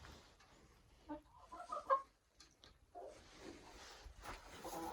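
Chickens and hens on a farm cluck softly and intermittently, faint and close by, with a few brief louder bursts amid quiet rustling.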